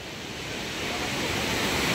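Broad, steady roar of sea surf on a shore where fishing boats come in to land, swelling slightly louder over the two seconds with no voices.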